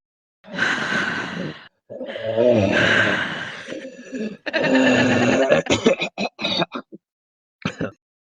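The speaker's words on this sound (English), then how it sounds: "A moment of heavy breathing into our mics." Several people breathe heavily and sigh into close microphones, long exhaled breaths in loud bursts with brief pauses, ending in a few short huffs and chuckle-like breaths.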